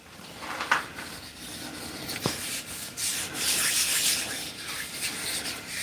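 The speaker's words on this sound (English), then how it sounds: "This side's flat, so I may have to go back and sand this side." A wooden yo-yo is sanded as it spins on a woodturning lathe, giving a steady abrasive hiss that swells louder through the middle and runs without talk.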